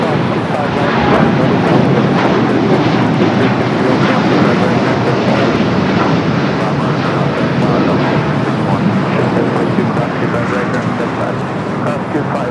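A heavy airliner bound for Osaka takes off on runway 25 right at LAX, producing a loud, steady, broadband jet roar that fills the whole stretch without letting up.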